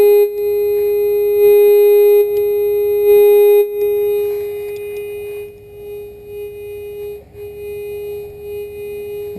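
A mid-1980s Whites metal detector gives a steady, loud electronic hum tone while it is ground balanced, the pitch holding constant as the level dips and swells slightly, with faint handling noise and no speech.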